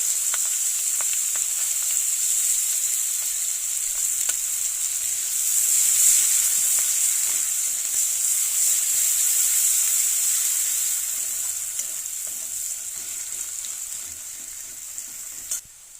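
Chopped onion and green chili hit hot oil already crackling with whole cumin for a Bengali river-fish curry, producing a loud, steady, hissing sizzle that holds for the whole stretch with a brief clatter near the end.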